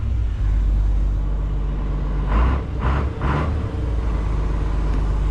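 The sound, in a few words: vehicle engine running after being started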